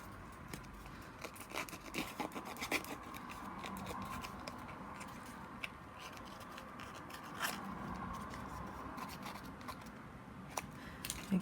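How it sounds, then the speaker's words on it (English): Scissors scrape along paper edges to distress them for a craft project, giving a steady, close, faint scratchy rasp with small irregular bursts and no talking. "And you can use a pair of scissors for this."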